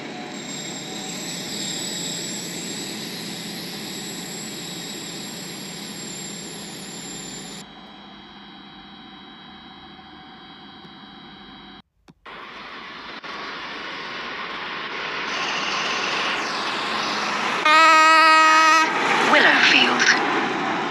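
A train approaches a platform at Stepford Central station in the Roblox game SCR. A steady engine drone shifts pitch partway through, and a rising whine and a tonal horn-like blast follow near the end.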